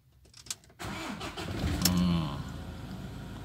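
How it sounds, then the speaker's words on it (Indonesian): A car engine cranks after a few faint clicks, catches and revs briefly, then settles into a steady idle, loud and close with no talk. "Nah, kemudian coba kita hidupkan mobil ini."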